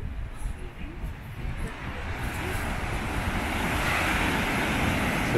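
Rough, heavy surf breaking at a beach in Costa Rica, a broad continuous wash of waves that swells steadily louder, with wind buffeting the microphone throughout.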